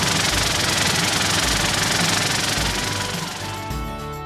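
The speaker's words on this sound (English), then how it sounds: "Tumbling eliminates any sharp edges or burrs on the tool left over from milling." A tumbling machine deburrs milled Radius Quick-Jig tools, a dense, steady churning roar with a rattling, knocking texture that runs loud and continuous before easing slightly near the end.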